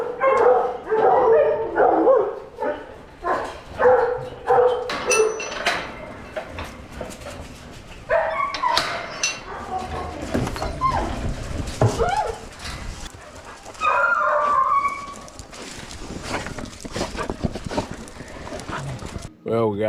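Several dogs bark at hunting pens while being loaded into a vehicle on a breezy day, sharp repeated barks near and loud throughout, with voices talking amid the commotion.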